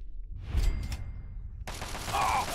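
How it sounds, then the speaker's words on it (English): Gunfire from Fallout 3, played on Very Hard: a muffled rumbling burst of shots, then a sudden brighter, steady rattle of fire that keeps going to the end under a low background hum. "that's you shooting"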